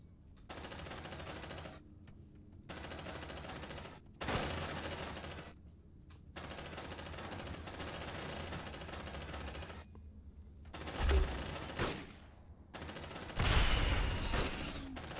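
Bursts of sustained automatic suppressing fire from marines in Aliens: Dark Descent, several long rattling volleys separated by short silent gaps, with heavier thuds near the end.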